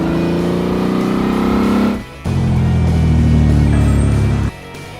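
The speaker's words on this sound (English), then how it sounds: "Hatchback." Hatchback car engine droning and revving up nearby, a loud steady hum that cuts out briefly after two seconds and then resumes just as strongly before stopping.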